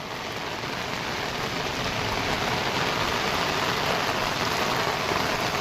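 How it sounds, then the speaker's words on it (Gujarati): Steady heavy rain pours down without pause over flooded farm fields near a river, a dense hiss of drops on surfaces, constant and fairly loud throughout. "અત્યારે વરસાદ ચાલુ થઈ ગયો છે."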